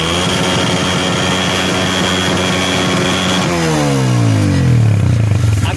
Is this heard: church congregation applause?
no